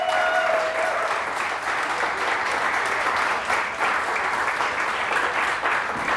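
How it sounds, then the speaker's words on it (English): A crowd applauds at a welcome event for the new head coach of the Cape Breton Eagles hockey team. The clapping is steady and sustained, filling the room evenly from start to finish with no talk over it. "a round of applause for Jason Clarke"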